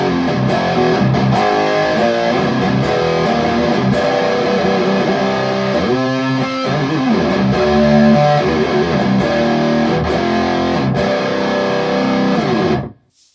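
High-gain electric guitar tone from a Fender Tone Master Pro, with a loud, continuous heavy riff of chugging palm mutes and sustained chords for about thirteen seconds before stopping abruptly.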